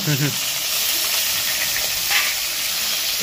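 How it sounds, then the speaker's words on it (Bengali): Hilsa fish heads, coated in salt and turmeric, sizzle and crackle steadily in hot oil in a pan, a continuous close hiss with a brief low voice at the very start. "এটাকে ভালো করে ভেজে নেব।"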